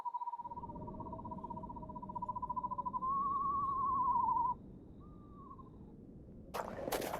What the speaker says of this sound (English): to try to record some screech owl sounds